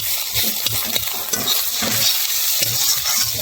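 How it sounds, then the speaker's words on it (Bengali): Sweet potato frying in a pan: a constant hiss of hot oil with soft rhythmic scraping and stirring underneath, close and steady throughout. "এই দেখো কেমন কি কন্ডিশনে রয়েছে এখন আমাদের মিষ্টি ভাজা"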